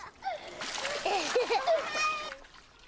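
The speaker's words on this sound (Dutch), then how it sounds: "gooit water over mijn hoofd" Water is poured over a child's head in a bath, splashing and sloshing loudly up close while children's voices chatter and squeal over it.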